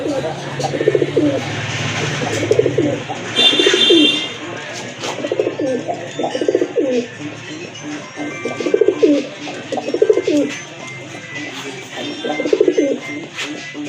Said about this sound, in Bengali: প্রথমেই আপনারা দেখতে পাচ্ছেন এক জোড়া কাগজি কবুতর